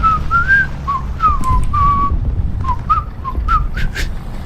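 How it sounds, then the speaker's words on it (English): A person whistles the British Grenadiers march tune, a close, somewhat wavering melody of short phrases with pauses between them, over a low rumbling background. "Can you sing can you whistle the British Grenadiers for me?"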